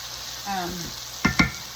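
Steak frying in a pan with garlic butter, a steady low sizzle broken by two sharp clanks of a utensil against the pan near the end.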